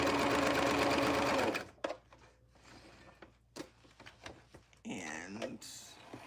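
A chainstitch sewing machine running a runoff stitch off the end of a dart: a fast, loud mechanical whirring for about a second and a half, then quiet handling clicks and rustles, with soft speech at moments.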